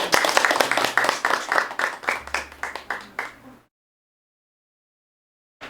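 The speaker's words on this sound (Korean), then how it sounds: "박수로." Audience applause before a geomungo sanjo performance in a Korean traditional music lecture hall: clear rhythmic hand claps, close and moderately loud, that fade over about three and a half seconds into silence.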